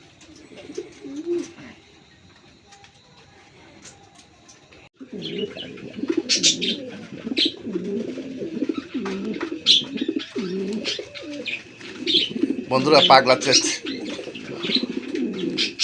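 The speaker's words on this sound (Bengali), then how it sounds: "এটা বিগ সাইজের একজোড়া কিং কবুতর" A big pair of king pigeons coo repeatedly in rounded, throaty phrases with occasional wing flutters, close and loud, while someone speaks briefly at the start.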